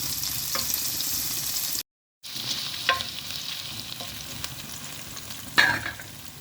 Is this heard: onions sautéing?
yes